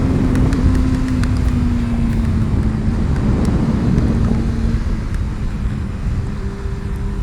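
A 2011 Honda CBR 600 F, a 600cc sport-tourer, drones steadily under heavy rushing wind while riding, its engine tone low and held fairly constant rather than climbing.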